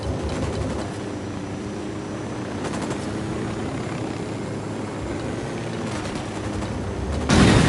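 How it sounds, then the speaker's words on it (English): Rapid automatic gunfire in a war video game, a steady dense rattle of shots with a helicopter-like engine drone underneath, continuous and loud throughout, with a heavier burst right at the end. "I'm opening fire on these shitheads"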